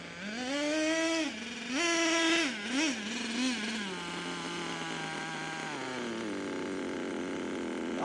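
RC nitro truck engine, a small high-pitched two-stroke that blips through several quick revs before dropping to a steady buzzing idle, close and loud, with no talk.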